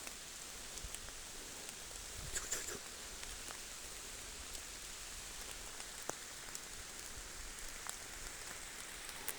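Steady rain falls and patters on a surface nearby, making a continuous quiet hiss with scattered individual drop taps and no voices.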